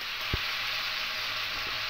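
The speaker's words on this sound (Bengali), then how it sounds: "এবার এখানে ভেজে রাখা আলু আর সয়াবিন দিয়ে দেব, দিয়ে ভালো করে মিশিয়ে নেব।" Fried potatoes and soybeans tipped into a hot pan of spices for a vegetarian rice biryani, a steady even sizzle with one soft thump as they go in and light stirring, no voices.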